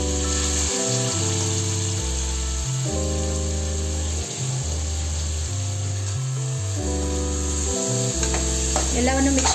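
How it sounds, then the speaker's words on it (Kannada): Washed rice with toor and masoor dal sizzles in a khichdi tempering, a steady frying hiss and stirring under prominent background music. "ಅದನ್ನು ಒಗ್ಗರಣೆಗೆ ಹಾಕಿಕೊಳ್ಳೋಣ."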